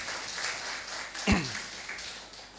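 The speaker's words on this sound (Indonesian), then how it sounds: "Berikan aplaus yang luar biasa untuk Pak Pri" An audience applauding after a talk, a broad wash of clapping heard at moderate distance with a brief sharp thump midway.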